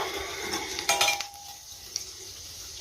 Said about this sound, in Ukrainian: Тепер я їх накриваю кришками і нехай підсмажуються з другої сторони